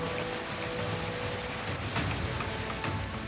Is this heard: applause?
no